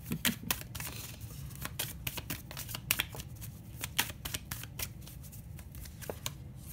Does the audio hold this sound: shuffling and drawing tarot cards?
yes